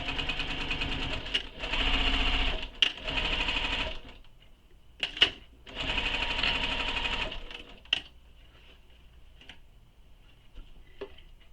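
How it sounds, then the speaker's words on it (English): A sewing machine back stitches over bag strap anchors in two bursts of rapid, steady mechanical stitching, each about two seconds long, separated by clicks and brief pauses, followed by quieter handling with faint occasional clicks. "I'm going to back stitch once over them just for some added security."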